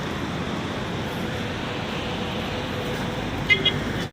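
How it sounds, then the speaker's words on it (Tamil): Busy open-air ambience at the large Kilambakkam bus stand, with a constant rumble of traffic and crowd noise and a couple of short horn toots near the end. "செம்ம பெருசுங்க கிளாம்பாக்கம் பஸ் ஸ்டாண்டு."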